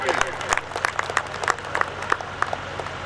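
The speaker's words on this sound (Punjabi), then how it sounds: "ਜ਼ੋਰਦਾਰ ਤਾੜੀ ਮਾਰ ਕੇ ਆਪਾਂ ਇਹਨਾਂ ਦਾ ਸਵਾਗਤ ਕਰੀਏ" An audience at a political gathering in Goraya, Punjab claps to welcome a speaker, a scattered run of hand claps heard close and fairly loud with a voice over it.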